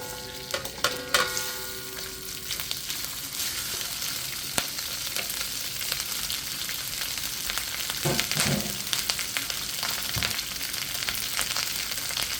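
Cooked rice sizzles steadily in hot oil in a pan on a butane burner while a utensil breaks it up and stirs it for Thai fried rice, with occasional scrapes and knocks, close with no talking.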